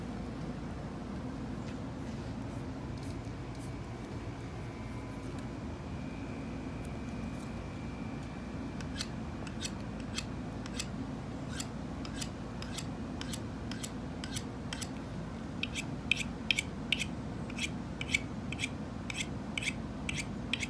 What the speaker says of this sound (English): And AEB-L loves the ceramic rods. Gets a very fine edge on them.